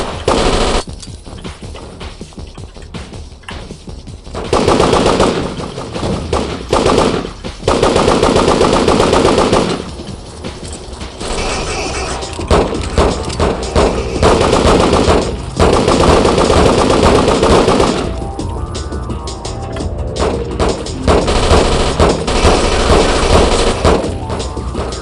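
Loud machine gun fire fills a combat scene in the video game Devastation, with sustained automatic bursts and overlapping shots running almost nonstop, broken by only brief gaps.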